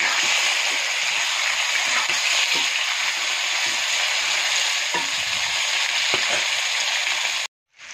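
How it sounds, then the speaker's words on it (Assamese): Chicken pieces frying in plain hot oil without salt or spices, a dense, steady sizzle and crackle that holds close and loud for about seven seconds before cutting off, with no talking. "মই মাংসখিনি এনেকৈ খালি তেলত ভাজি লৈছোঁ। প্ৰথমতে অলপ ৰঙাকৈ ভাজি ল'ম।"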